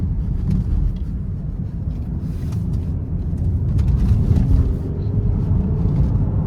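Interior view of a 2017 Mercedes-Benz GLE 350 4MATIC in sport mode, its engine accelerating as a low, steady rumble mixed with road and wind noise, gradually swelling slightly in loudness; no talking.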